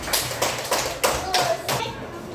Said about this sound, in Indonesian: Ayo tepuk tangannya untuk kalian.